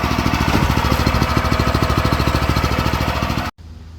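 A brand-new Harbor Freight small engine on a rebuilt go kart, one that began smoking out of the box, runs loud and close with a rapid, steady putter that cuts off abruptly near the end.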